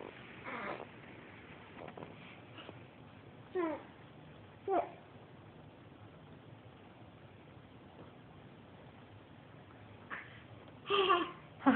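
A house cat gives a few short, faint meows and chirps, spaced apart, against quiet room noise.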